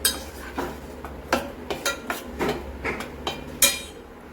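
A spoon mixes pazham pori batter with cumin seeds in a bowl, giving about a dozen irregular, close clinks and scrapes against the bowl over a few seconds, with no talking.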